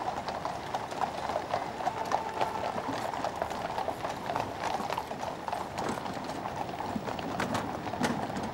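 Horses' hooves clip-clop steadily at the Trooping the Colour birthday parade, a dense, continuous patter of many hoofbeats with a faint crowd murmur and occasional bird calls around them.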